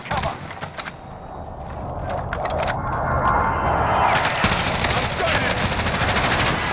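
Gunfire in a first-person shooter video game, bursts of rapid automatic fire and shots building into a dense, continuous loud barrage over synthwave-style music.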